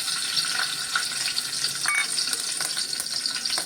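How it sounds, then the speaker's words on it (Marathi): Green chillies fry in hot ghee in a kadhai, giving a steady, close, bright sizzle with crackling pops throughout, no voices over it. "आता ह्याच्यात आपण हिरव्या मिरच्या घालणार आहोत"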